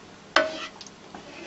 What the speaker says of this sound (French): on laisse chauffer un petit peu le miel avec le beurre